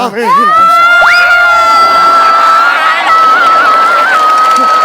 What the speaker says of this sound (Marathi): सगळे लोक आरडाओरडा करायला लागलेत